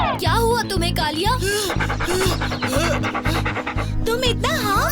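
A cartoon character pants heavily in rapid, rhythmic breaths, loud and close, as animated voices speak over and around the gasping.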